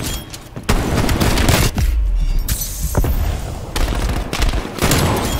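Shotgun fire in Call of Duty Black Ops Cold War: several loud, sharp blasts ring out among other booming gunfire, with dense combat noise that barely lets up.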